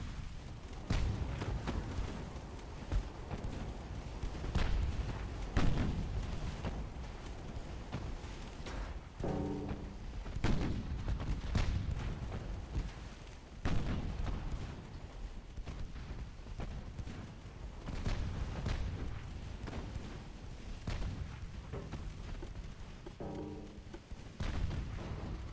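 Naval guns firing HE shells in the warship game Ultimate Admiral Dreadnoughts, a long run of repeated booms and thuds at irregular intervals over steady background rumble, fairly faint throughout with no talk.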